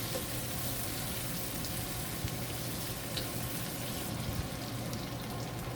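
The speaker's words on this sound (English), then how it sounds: "Add sliced onion and garlic and saute until light golden brown or until the aroma are come out" Sliced onion and garlic sautéing over high heat for Filipino pancit guisado, a steady faint sizzle and crackle of frying that continues evenly throughout with no voices.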